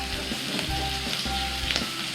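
Meat sizzling steadily on a Thai mookata pork grill, a close, continuous frying hiss with faint low rumbling beneath, no voices.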